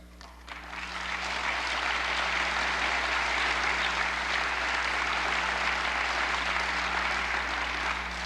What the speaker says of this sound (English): Now, you applaud at that